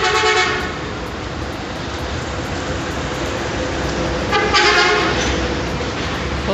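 A big truck on a roadside in Ghana sounds a loud horn twice, at the start and again near the end, over a steady rumble of nearby traffic.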